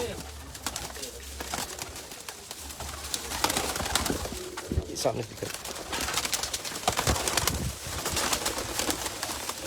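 Taddy pigeons cooing and flapping their wings in a loft, soft low coos and bursts of feather flutter mixed with someone speaking Hindi/Urdu nearby.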